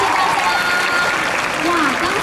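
Audience applause at a singer's fan signing event in Taipei, a dense steady clatter of clapping throughout, with talk and tonal voice-like sounds riding over it.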